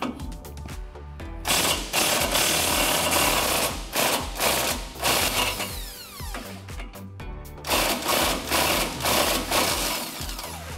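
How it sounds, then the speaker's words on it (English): Powered impact tool with an 18mm socket spinning off the sway bar end link nut on a 2006-2022 Dodge RAM 1500, loud close bursts of buzzing rattle with short pauses between pulls, no talking. "we can get an 18mm socket on that and remove it"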